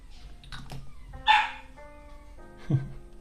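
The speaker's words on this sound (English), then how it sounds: "Puppy's mad." A puppy barks a few times indoors in a quiet room, with two short, fairly faint yaps spaced over about three seconds.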